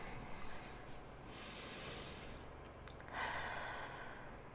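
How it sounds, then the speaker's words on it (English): A person breathes deeply and slowly during a guided clearing meditation, with soft audible inhales and exhales and a hissing breath near the end, close and quiet with no talking. "Keep breathing like that, friends"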